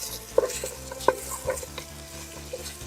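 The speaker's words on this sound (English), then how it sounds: "To the bacon sauteing in the pan, we're gonna add an onion and 2 leeks." Bacon, onion and two leeks sautéing in a pan, stirred with a spoon: a steady low sizzle under a few sharp scrapes and knocks against the pan, close and moderately quiet, with no talking.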